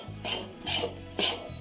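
Beaten, salted eggs being scrambled with spinach and carrot in a pan for a Kerala-style spinach thoran, heard as three distinct scraping, rasping strokes of a spatula against the pan over a low background hum, close and moderately loud.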